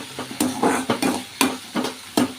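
Puffed rice tossed with onion and tomato in a frying pan, brisk rhythmic scraping and rustling strokes about every half second over a soft sizzle, close and without talk.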